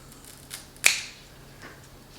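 Pruning shears give a single sharp snip through a Philodendron Burle Marx stem, close and crisp, with a few faint handling rustles around it.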